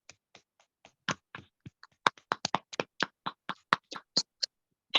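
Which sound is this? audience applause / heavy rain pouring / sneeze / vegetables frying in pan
audience applause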